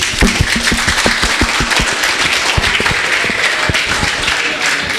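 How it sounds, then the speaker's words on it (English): Audience members clap together at an event after a group countdown, a broad wash of applause with crisp individual claps standing out near and loud, steady throughout. "Let's clap for all of us"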